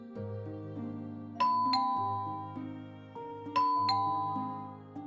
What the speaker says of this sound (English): You're standing outside of Vyn's house and ringing his doorbell, but no one is answering.